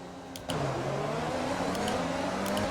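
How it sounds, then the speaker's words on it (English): Formula 1 race cars in the F1 2020 video game launch off the line at the USA Grand Prix start, a dense rising engine roar that surges in after a brief quieter moment. "Great launch off the line."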